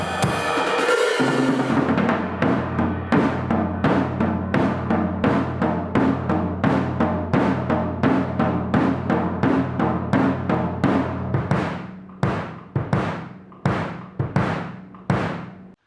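Drum intro and verse: a bright crash-heavy opening gives way to a steady, evenly spaced beat of tom and kick hits with ringing decay, close and prominent, thinning toward the end, no talking.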